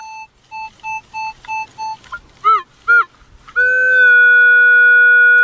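A metal detector in a farm field sounds over a buried find: a rapid string of short electronic beeps, a couple of warbling chirps, then a strong steady tone that holds to the end, loud and close.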